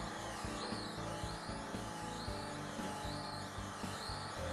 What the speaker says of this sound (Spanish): Cuanto más rato dejemos que vaya dando vueltas dentro de la juicen, más, fino será, más fina será la mezcla